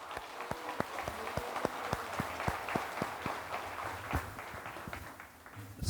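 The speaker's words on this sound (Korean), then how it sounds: "여러분들이 동의하시면 큰 박수 하시겠습니다" Audience applause at a Korean religious rally in Suncheon, a crowd clapping in a loose, fairly rhythmic pattern with distinct individual claps standing out over the wash, carrying on for about six seconds.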